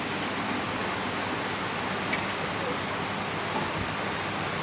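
Steady rain falls on a village morning as a dense, even hiss that stays constant throughout, with no voices.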